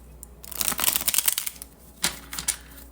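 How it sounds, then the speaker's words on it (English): Crisp riffling of tarot cards being shuffled, a quick flurry of papery flicks followed by a couple of shorter bursts, close and moderately quiet. "Okay, one more shuffle."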